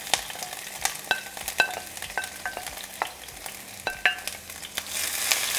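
Sliced onion and strips of serrano chile sauté in hot oil with a steady sizzle, while a spatula clicks and scrapes against the pan at irregular intervals close by.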